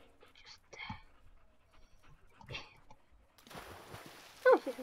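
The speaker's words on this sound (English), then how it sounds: "forgot about the dog" A dog in a video game pants in short breathy bursts, faint and close, followed by a brief louder noise near the end.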